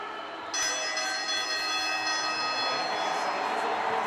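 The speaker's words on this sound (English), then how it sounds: "That bell's getting a workout." A bell rings in an athletics stadium during a para athletics event, a sustained metallic ringing that starts abruptly and carries on over a steady crowd murmur.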